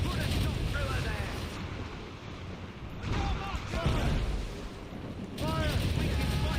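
Ship cannons boom in Assassin's Creed Rogue naval combat, heavy low rumbling blasts and a dense roar of battle, with voices calling out over the din.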